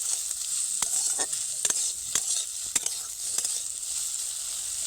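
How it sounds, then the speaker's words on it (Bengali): A paneer filling fries in a pan while being stirred, with a bright constant sizzle broken by sharp, irregular spatula scrapes and taps, close and fairly loud. "পনিরটা দেওয়া হয়ে গেছে এক মিনিট মতো নেড়ে"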